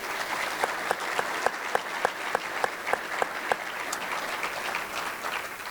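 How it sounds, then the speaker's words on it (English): A State of the City audience applauds city employees with steady, continuous clapping from a sizable crowd, with a few sharper individual claps standing out in a loose rhythm before it softens toward the end. "if y'all would do me the honor just giving a round of applause for all the men and women that serve our community as city"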